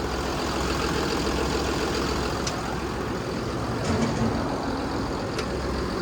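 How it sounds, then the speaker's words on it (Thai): A 2017 Komatsu WA380-8 wheel loader's six-cylinder turbocharged engine idles in a steady, continuous low rumble close by, with a few faint clicks over the top and no talking. "เครื่องยนต์6สูบเทอร์โบครับ"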